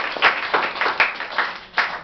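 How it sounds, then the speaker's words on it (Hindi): Students in a school classroom clap for a child, a scattered round of hand claps with uneven bursts over about two seconds, fairly close and without talk. "पहले तो इस बच्चे के लिए ताली बजाओ जरा जोरदार।"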